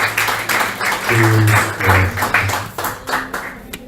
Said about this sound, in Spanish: le das un fuerte aplauso al Señor con todo tu corazón